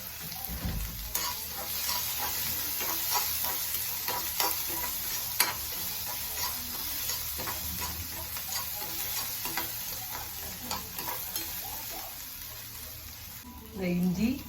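Chopped onion and asafoetida fry in oil in a pan, a steady close sizzle with scattered stirring scrapes and clicks throughout, swelling briefly louder near the end.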